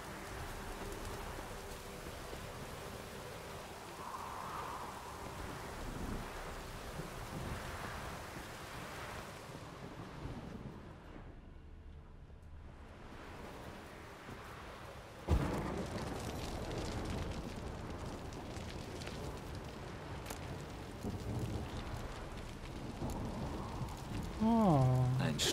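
A thunderstorm in The Witcher 3 brings steady rain and gusting wind that hiss continuously, dip briefly, then surge back with a sharp crack and heavier downpour, with faint sounds layered underneath.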